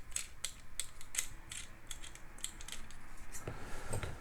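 A Wera ratchet from an M6 toolkit clicks as it removes a nut, giving a quick series of close, crisp pawl ticks with brief pauses between strokes.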